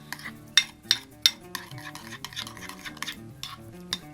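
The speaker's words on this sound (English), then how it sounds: "And then I'm just going to mix this all together thoroughly." A utensil clinks and scrapes in a bowl while black pepper and sugar are mixed into an Alabama white sauce, a few sharp taps followed by softer rhythmic stirring, close and quiet.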